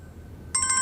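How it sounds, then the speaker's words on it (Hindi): A telephone starts ringing abruptly partway through, loud and close, with a repeating electronic ring pattern after a quiet room. "किसका फोन आ गया इस वक्त?"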